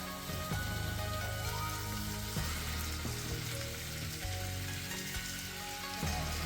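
Beef and onions, with browned garlic, sizzle in a very hot pan: a steady crackling hiss that runs continuously, with soft music playing underneath.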